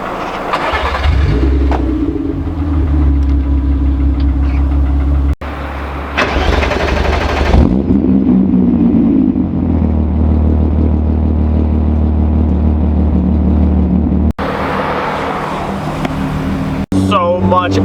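A Mk3 Volkswagen Golf, a push-start junkyard find, idles loudly up close with a deep steady rumble and surges of revving, its tone changing between bursts and brief cutoffs.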